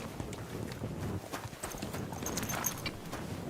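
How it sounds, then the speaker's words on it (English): Horse hooves clip-clop at a steady walking rhythm in the medieval video game Kingdom Come: Deliverance 2, close and moderately loud, with faint game ambience behind. "This is just a regular horse."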